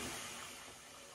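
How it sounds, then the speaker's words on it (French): Tap water running steadily into a bathroom sink, a continuous close hiss of flowing water that fades slightly toward the end. "pendant que je fais ça, moi, je vais remplir le lavabo"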